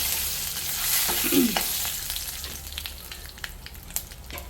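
Mustard seeds and okra sizzle in oil in a clay pot for sambar, a steady close frying hiss with a stirring scrape early on and a few small pops scattered through.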